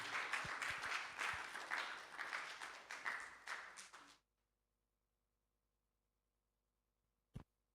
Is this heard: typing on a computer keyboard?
no